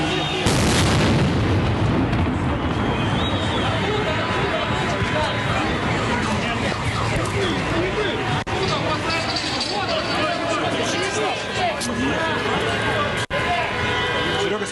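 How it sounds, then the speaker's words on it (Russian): A sudden loud blast from an explosive device thrown by police at a street protest in Belarus, followed by a dense crowd roar and murmuring voices that persist throughout. "Здесь же в один момент правоохранители бросили взрывное устройство."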